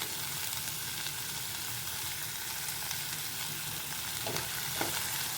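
Ivy gourd (tondli) stir-fries in spiced oil in a pan over low to medium flame, a steady close sizzle with a couple of soft stirring scrapes near the end.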